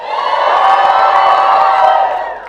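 An audience in a hall lets out a huge, sustained cheer, a loud wall of shouting and whooping voices that swells, holds steady for a couple of seconds, then starts to fade.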